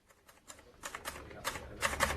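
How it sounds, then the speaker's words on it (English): A typewriter being typed on, as someone types out a police report in a murder mystery drama: bursts of rapid key clatter that grow louder and denser toward the end, close and clear with no voices. "He was typing out his report."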